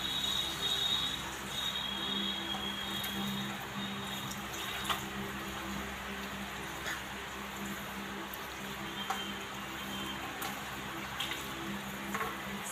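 Water from a tap runs steadily over hair during a hair wash before shampooing, a soft continuous splashing hiss with faint drips and occasional small clicks, close and without talk.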